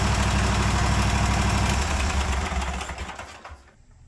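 Cub Cadet 1050 hydrostatic garden tractor engine idling at a slightly high idle, a steady close mechanical drone that fades away over the last second.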